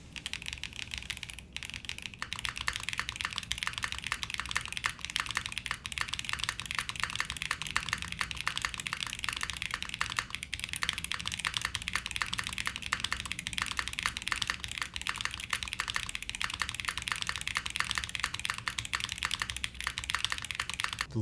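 Fast, continuous typing on a Leo80 mechanical TKL keyboard fitted with polycarbonate keycaps, with dense, close clacks and occasional heavier spacebar thocks and no voice.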